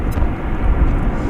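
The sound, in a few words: Embraer 175 airliner from Tulsa at DFW Airport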